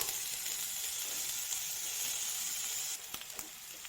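Ginger-garlic paste sizzles in a pan for a mushroom roast, giving a steady bright hiss throughout, with a few light clicks of stirring near the end and no voices.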